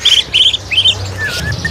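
A green leafbird (cucak hijau) sings at a small bird kiosk in a few bright, quick warbling phrases. The bird is close and loud, and the song lasts less than two seconds.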